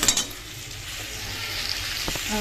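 Potatoes for aloo dum frying in a pan, giving a low, steady sizzle with a few soft stirring scrapes and a faint utensil clink near the end.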